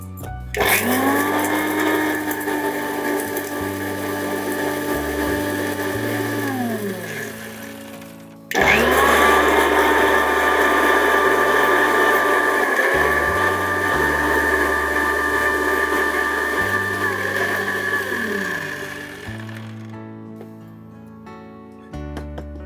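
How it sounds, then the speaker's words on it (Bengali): Electric grinder powdering spices for mutton kala bhuna, two long loud whirring runs with a brief stop between them and a falling whine as the motor winds down, with voices talking over it. "আমি এটাকে একটু গুঁড়ো করে দিই"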